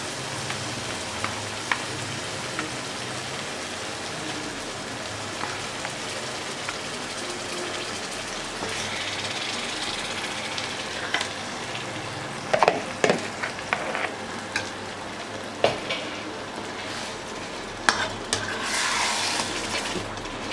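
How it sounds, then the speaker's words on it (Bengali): Marinated chicken fries in a ghee-rich spice masala for morog polao, a steady hissing sizzle with occasional sharp clatters and scrapes from stirring, and no voices. "এবার মশলার সঙ্গে চিকেনটাকে খুব সুন্দরভাবে মিশিয়ে নিচ্ছি।"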